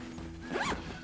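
Zipper on an everyday-carry backpack's pouch being pulled open in one quick, close rasping sweep rising briefly over a quiet room.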